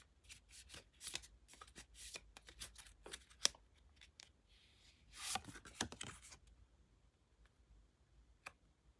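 Oracle cards shuffled by hand for a tarot love reading, a close run of crisp riffling flicks and slaps with short pauses and a louder burst of shuffling midway, no talking.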